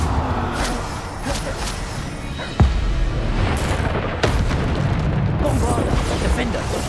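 Bombarda spell explosions in Hogwarts Legacy, two sharp blasts over continuous dense, noisy combat rumble and effects, loud and close.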